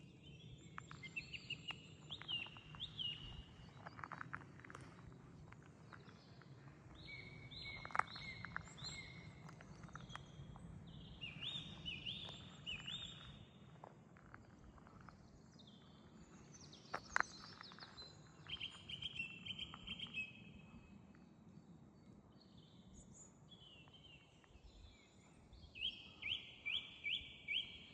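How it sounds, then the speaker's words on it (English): Songbirds chirp and whistle in bright, repeated phrases at moderate distance in the early morning countryside along a long hiking trail, with soft footsteps and low ambient rumble underneath. "So nice to hear the birds singing early in the morning."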